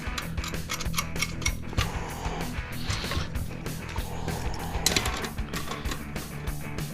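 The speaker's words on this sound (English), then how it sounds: "Gotta take these screws off here." Screws are worked loose from an Ethernet box with a continuous close scraping, rubbing and ticking of metal on metal, with no pause throughout.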